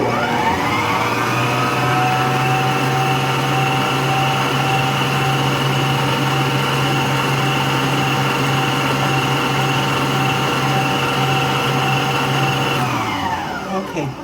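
An electric mixer whips buttercream frosting for a homemade chocolate cake, a loud, steady motor whir that holds one even pitch for about thirteen seconds and then cuts off abruptly.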